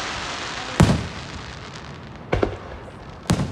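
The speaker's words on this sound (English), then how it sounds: "Last part of the fireworks." Independence Day fireworks: three sharp, loud bursts spaced a second or more apart, each cracking out over a steady low hiss of background noise, with no voices.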